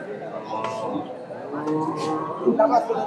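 Cattle at a Bangladeshi cow market moo in drawn-out calls amid background chatter and nearby voices, with a busier burst of sound near the end.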